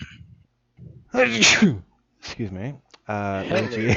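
A racing driver, joining a sim racing league broadcast interview, gives a single loud, close sneeze followed by an excuse; voices speak before and after it.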